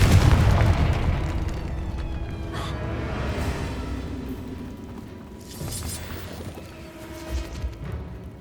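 A Confringo fire spell exploding in the video game Hogwarts Legacy: one loud deep boom that opens the moment, then a long rumbling, crackling decay with faint game ambience and no talk.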